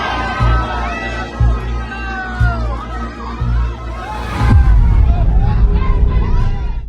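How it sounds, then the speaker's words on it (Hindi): A gathered crowd in front of Maitri Dental and Nursing College in Durg, its mixed voices and shouts steady throughout with rhythmic low thuds early on, growing louder and denser in the second half. "मैत्री डेंटल एंड नर्सिंग कॉलेज के ठीक सामने आप ये तमाम भीड़ देख सकते हैं"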